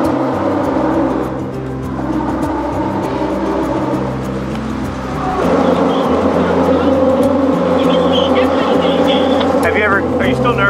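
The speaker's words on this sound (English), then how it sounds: "sounds like ghouls and ghosts, these cars going over the bridge" Cars rumbling over a bridge about ten feet overhead, heard from a sailboat below as a continuous low droning roar with swelling passes and clanks, loud and close, with people talking now and then.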